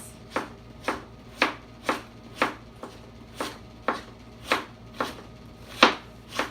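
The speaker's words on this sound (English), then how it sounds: "What I'm going to do is cut my cabbage in very thin" Knife slicing cabbage thinly on a board for taco salad, about a dozen crisp, evenly spaced cuts at a steady rhythm, close and clear with no talking.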